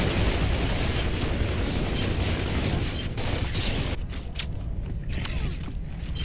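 Grenade explosions and gunfire in a shooter video game fill a dense, loud, constant roar, with sharp blasts standing out near the end.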